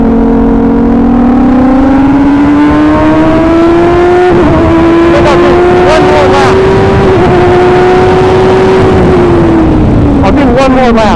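A loud F1000 race car engine on shakedown laps drones close and steady, climbing slowly in pitch and then dropping, with sharp gear-change breaks in between.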